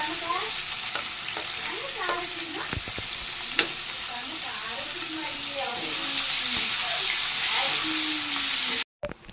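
Onions sizzle and fry steadily in a pan with garlic and curry leaves for a bitter gourd curry, a dense close hiss under faint speech, with a brief clatter midway.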